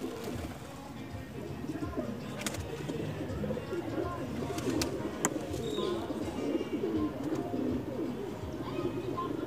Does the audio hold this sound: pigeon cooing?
yes